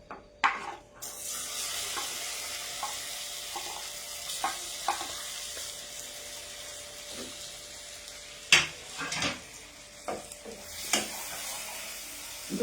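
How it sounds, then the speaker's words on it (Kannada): Bananas fry in a pan with a low, steady sizzle, broken by intermittent scraping and clinking as a utensil stirs them, the stirring strokes spaced irregularly and fairly close. "ಇದು ಲೈಟ್ ಬ್ರೌನ್ ಆಗೋ ತನಕ ನೀಟಾಗಿ ಫ್ರೈ ಆಗಲಿ."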